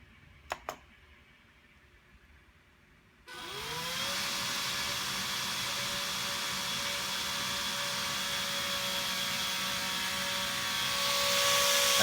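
A helicopter model test rig starts up for a PID angle-tracking test: quiet room tone and two sharp clicks, then a motor and rotor whir up abruptly into a loud, steady drone with a faint tonal whine that swells slightly toward the end.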